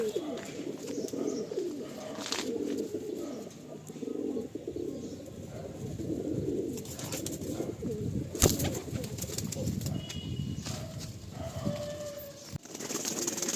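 Andhra breed pigeons cooing in a loft, low throaty coos overlapping from several birds, with occasional wing flaps and a faint chirp against a noisy indoor background.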